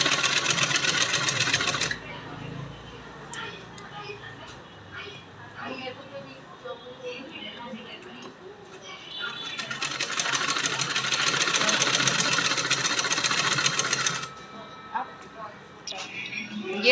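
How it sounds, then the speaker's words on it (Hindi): Electric sewing machine stitching a salwar, loud whirring runs at the start and again in a longer burst later, separated by quieter handling and fabric movement, close up with a voice talking in between. "इस तरह से हम इसमें बैठी सिलाई लगाएंगे।"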